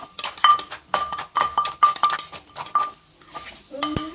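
Tray and dishes clink repeatedly in a Thai home kitchen while spicy crab papaya salad with pickled crab and fermented fish sauce is served, bright metallic taps recurring in a steady scatter with some soft rustling between.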